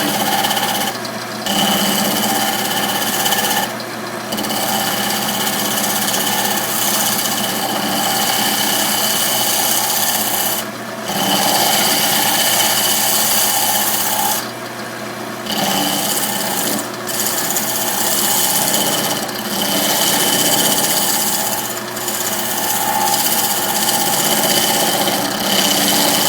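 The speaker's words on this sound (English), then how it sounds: "I'm going to switch to this scraper here. Take it down the line." Steady scraping of a lathe scraper against a spinning segmented wood turning, a continuous raspy grind with brief dips as the tool lifts and re-engages.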